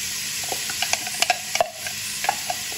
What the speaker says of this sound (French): Quand mon huile est chaude, je mets les oignons.